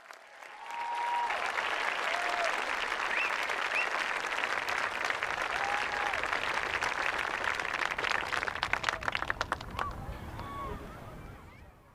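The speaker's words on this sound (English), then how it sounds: "Please join me in a round of applause befitting the work these two students have done consistently and completely" A high school graduation crowd applauds two students in a large venue, a sustained wash of many hands clapping that holds steady for most of the span, with a few louder individual claps, then tapers off.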